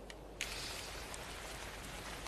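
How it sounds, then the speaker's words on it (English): Rain falls in the video game Ark: Survival Evolved, a faint, steady hiss of drops with a few soft ticks near the start. "It's raining."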